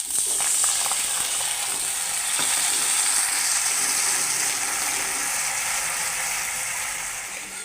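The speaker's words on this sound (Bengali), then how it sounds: "মশলাটা ভালো করে কষিয়ে নিয়েছি" A spice paste of cumin, coriander, chili and turmeric mixed in water frying in hot oil, giving a steady loud sizzle throughout with occasional scraping of a stirring utensil against the pan.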